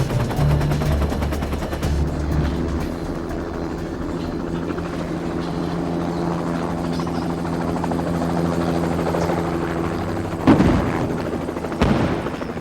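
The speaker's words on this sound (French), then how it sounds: "Les hélicoptères de secours sont de nouveau la cible des tirs anti-aériens." Rescue helicopters throb with steady rotor drone while anti-aircraft gunfire crackles around them, with a couple of sharp louder blasts near the end.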